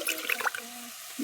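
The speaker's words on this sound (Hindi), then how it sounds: "अब इन्हें डालबो मही और मही डाल के संगवारी हो इनमें डालबो पानी" Water poured into buttermilk and spice paste while making a rohu fish curry gives a brief burst of splashing and liquid gurgle at the start, then settles to a quieter trickle.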